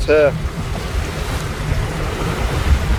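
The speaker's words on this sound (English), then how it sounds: "in about 15 knots of breeze, maybe a bit more, fully powered up with the full main and jib" A sailboat under full main and jib runs in about 15 knots of breeze near Fitzroy Reef, with steady wind roar and rushing water against the hull, close and loud, after a brief tonal beep at the start.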